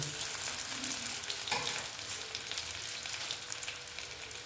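Soya chunk koftas deep-fry in oil, giving a steady, close bubbling sizzle that fades slightly toward the end, with no talking.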